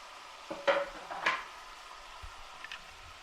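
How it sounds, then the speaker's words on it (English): Ground beef with freshly added onions in a frying pan, stirred with a utensil: a couple of quick scraping strokes near the start over a faint, steady sizzle that fades to quiet. "Going to stir this up and let those onions start getting soft"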